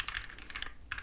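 Typing on an EPOMAKER TIDE 75 mechanical keyboard: a quick run of crisp, close key clicks with a short pause, then a fresh burst of keystrokes.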